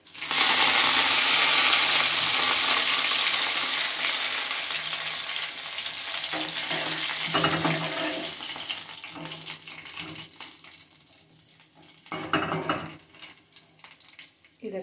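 Curry leaves and dried red chillies hit hot oil with a loud crackling sizzle that gradually fades and thins, followed by a few clinks and stirring noises as the spluttering settles.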